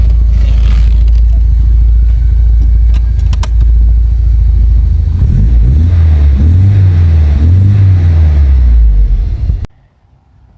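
Opel Manta GTE on a test drive: loud, steady engine drone close by with a rising and falling engine note near the end, then the sound cuts out abruptly.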